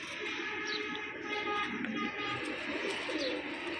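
Pigeons coo in low, rolling calls close by, with faint chirps and steady background hiss, and no one speaking.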